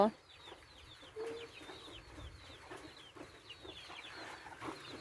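Hens cluck softly in short, irregular bursts among chirping birds, with a faint voice and outdoor background noise.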